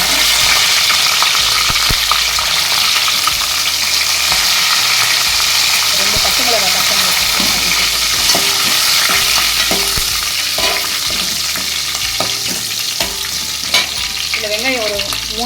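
Cashews and curry leaves fry in hot oil for vada curry, giving a steady, loud hissing sizzle broken by clattering stirs and scrapes of a spoon against the pan.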